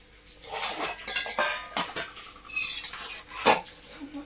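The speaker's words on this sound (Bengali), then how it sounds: "এই বাটিতে মাংস দিয়ে দিচ্ছি ওকে, আলু দিয়ে দিলাম" Meat and potatoes are ladled into a bowl, with repeated metallic clinks and scrapes of a spoon against dishes and pots in a kitchen, spaced irregularly with no talking.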